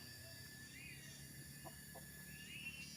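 Chickens in a village coop cluck faintly at a distance, with a few brief calls over a steady, quiet rural background.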